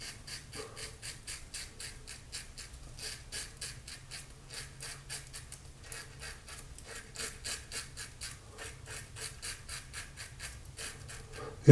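Fatip Testina Gentile safety razor buffing over slick Meißner Tremonia shave soap lather, a steady run of quick, soft scraping strokes in a regular rhythm, close up and quiet, with no speech.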